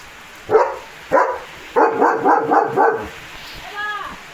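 A German Shepherd barks several times nearby, first two single barks and then a quick run of four, followed by a short whine.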